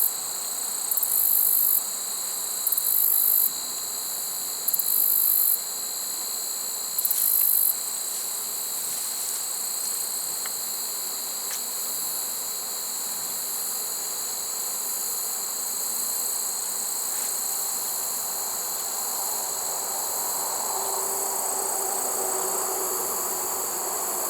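Steady insect buzzing from a honey bee swarm gathered near a swarm trap outdoors, a continuous close drone holding through the whole stretch, with a few brief louder bursts near the start.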